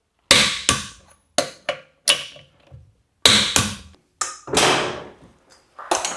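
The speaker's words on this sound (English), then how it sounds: "Now I'm going to tighten all the lug nuts up to 100 foot-pounds" Clicks and sharp metallic knocks from a torque wrench and socket tightening lug nuts on a Chevrolet Colorado / GMC Canyon truck wheel, about a dozen close, loud impacts in irregular bursts with short ringing decays and brief silences between.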